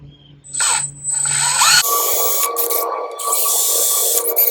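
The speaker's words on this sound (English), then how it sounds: "I'm going to drill a 3/16 from where I started with the unibit" Hand drill boring a 3/16 hole in a soft aluminum filler panel on a BMW R18 B motorcycle, a high whine starting, stopping, then running in a longer close, steady burst.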